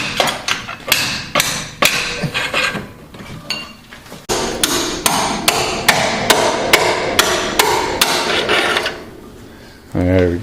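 Sharp metal hammer blows ring out while lower control arms are removed from a Jeep Cherokee XJ, coming in quick irregular strikes, then a steady run of about ten evenly spaced loud hits; a brief voice is heard at the end.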